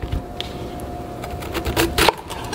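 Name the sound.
knife cutting the core out of a cabbage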